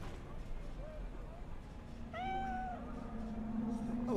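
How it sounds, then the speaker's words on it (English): A cat in the video game Cyberpunk 2077 lets out a single clear, drawn-out meow midway through, over a low background hum of game ambience. "Hello, kitty."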